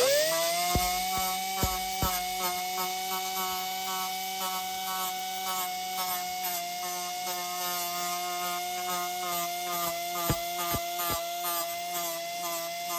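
A power tool, likely a sander, whines steadily at close range while roughing up a body panel on a 1966 Ford Mustang before painting, with a few sharp ticks and knocks along the way.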